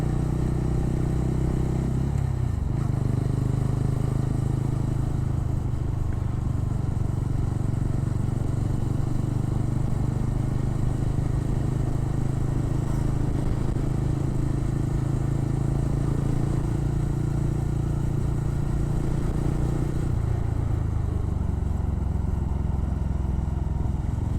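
A motorcycle engine drones steadily nearby on a road trip from Chennai toward the Jawadhu Hills, a constant low rumble with road noise and no talking.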